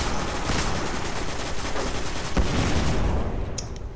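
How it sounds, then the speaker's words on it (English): Machine gun fire in the Destiny video game, a dense, loud, continuous burst of rapid shots lasting several seconds before tapering off, with no talking. "The machine gun is not going to be as effective at this range."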